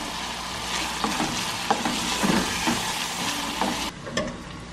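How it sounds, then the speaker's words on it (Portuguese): Beans frying and being stirred in a home kitchen pan, a steady loud sizzle with scattered scraping taps from the stirring, alone with no voices and cutting quieter near the end. "Vou dar uma fritada."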